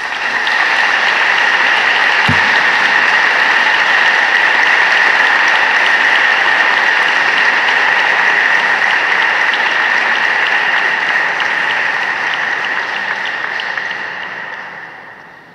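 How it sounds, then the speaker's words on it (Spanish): A church congregation at a confraternity board installation breaks into long, dense applause, steady and full for most of the stretch before gradually fading away at the end. "Vamos a aplaudirles a todos."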